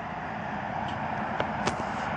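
Road traffic passes along the edge of a road beside a canal near Rice City Pond, heard as a steady broadband rumble and hiss with a couple of faint passing swells and clicks.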